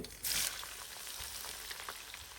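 Onions fry in a pan for beef rezala, giving a soft, even sizzle with a brief louder burst of hiss near the start and faint stirring ticks, quiet and close, no talking.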